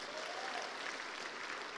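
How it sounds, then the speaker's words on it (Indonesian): A seminar audience at a business event gives a short burst of even, fairly quiet clapping with no voices over it. "Tepuk tangan untuk Anda semua Bapak Ibu."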